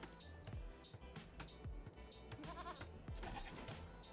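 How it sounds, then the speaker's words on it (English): Sheep bleat repeatedly in Age of Empires 2, short nasal cries scattered across the clip over a busy bed of game effects and clicks. "We have sheep right here."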